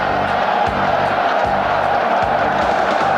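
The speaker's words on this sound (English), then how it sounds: "the crowd are now baying for the 100 points" A rugby stadium crowd in Pretoria roars at a South Africa versus Wales test match in 1998. The dense, loud baying holds steady, with surges of cheering and whoops and no break in the noise.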